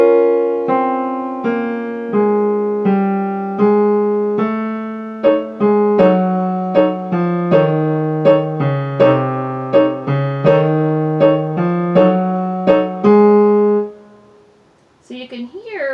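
A solo piano plays a line from Khachaturian's Waltz from Adventures of Ivan, with the left and right hands alternating in a lilting waltz rhythm of clear, decaying notes, close and moderately loud, ending with a brief rustle.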